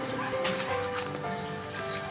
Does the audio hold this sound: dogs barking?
yes